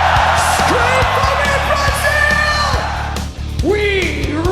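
Brazilian concert crowd at a heavy metal show, a loud sustained roar of yells and whoops that dips briefly before swelling again with rising shouts.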